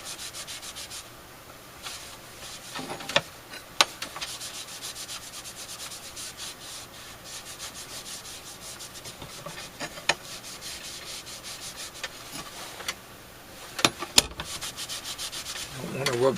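A rag rubs steadily across the surface of an Air-King Model 4607 fan, making a continuous close scrubbing sound with a few sharper scuffs and knocks along the way.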